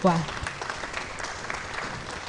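Conference audience applauding a speaker at an admin professionals conference, a broad hiss of clapping filling the hall after a brief voiced sound at the start, steady and moderately loud throughout.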